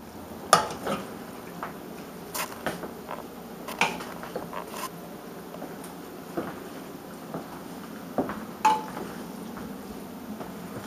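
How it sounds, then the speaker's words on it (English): Spaghetti being stirred in a pot while dinner is made at home: faint scattered clinks and scrapes of a utensil against the pot, with soft background noise and no talking. "once your spaghetti is stirred and not missing any other yellowness around"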